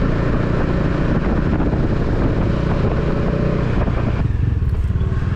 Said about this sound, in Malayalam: ഇതിനകത്തൂടെ ബൈക്ക് ഓടിക്കുമ്പോഴല്ലോ പ്രത്യേക രസമാണ് കേട്ടോ